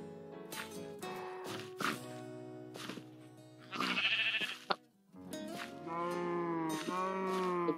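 Sheep in the Minecraft video game bleat over and over, with loud wavering cries one after another, several overlapping near the end, punctuated by a sharp crack.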